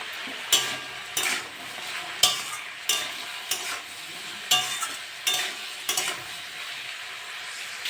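Yardlong beans and potatoes stir-frying in a pan with turmeric and salt, a soft continuous sizzle broken by regular scraping strokes of a spatula about every second, close and clear.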